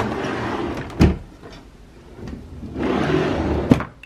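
A makeup storage drawer slides open with a sharp knock near one second, followed by a longer rolling scrape near the end with another click, close and clear with no talking.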